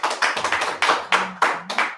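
A small audience at an improv comedy show claps a few scattered, uneven bursts to cast a vote, close and fairly loud, with a brief voice underneath.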